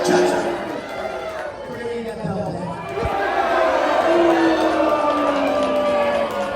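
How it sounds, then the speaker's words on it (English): A wrestling crowd at a triple threat match in Nashville roars steadily throughout, a dense, continuous wash of cheering with voices mixed in and a brief thump near the middle. "The crowd certainly likes seeing it on Cha-Cha's shoulders"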